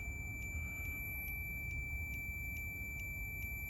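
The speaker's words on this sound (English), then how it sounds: "zero resistance, and we hear a beeping sound" Multimeter continuity beep while testing the ignition points on a Suzuki RV90 motorcycle: a steady, faint high-pitched tone held continuously for several seconds over a low background hum, with small regular ticks.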